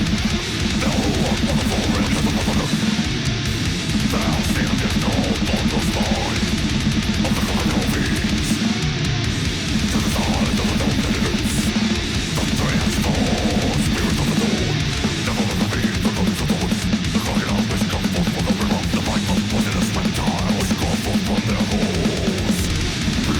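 Heavily mixed death metal guitar tone, a dense, loud and constant wall of distorted, chugging riffing with driving rhythm and no voices throughout.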